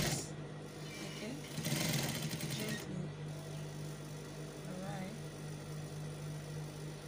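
Sewing machine stitching the seam of a cowl kaftan dress: a short burst of fast mechanical stitching over a steady motor hum, while a person talks through much of it.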